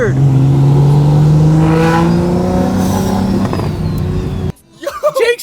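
A twin-turbo Audi R8 engine roars and revs loudly and close up, its droning pitch climbing steadily for several seconds before cutting off abruptly, followed by people talking.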